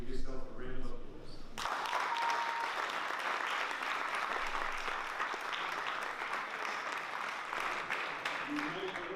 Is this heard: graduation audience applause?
yes